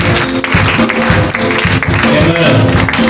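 A church congregation applauds at a service, dense steady clapping filling the room throughout, with voices mixed in under it.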